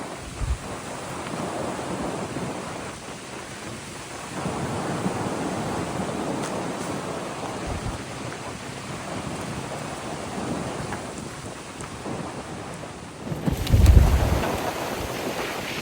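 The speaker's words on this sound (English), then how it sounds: "Those gusts sound crazy." Gusty wind on the Appalachian Trail blows hard and continuously, rising and falling, with one heavy, booming blast battering the microphone near the end.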